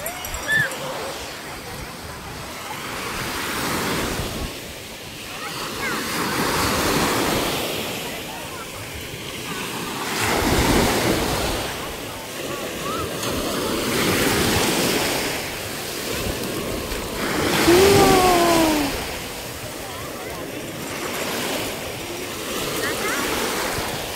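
Ocean surf rolls onto Poctoy White Beach in repeated swelling washes, loud and close with steady wind noise, while people talk over it.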